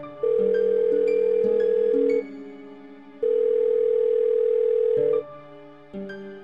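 Ringback tone on a landline call, heard through the handset after dialing: two long steady electronic tones, each about two seconds, separated by a pause, with the start of a third at the end. No one speaks.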